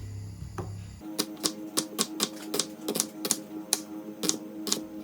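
A knife chops yellow onions on a board for chicken biryani, giving about a dozen crisp, evenly spaced cutting taps, close and clear, with no talking.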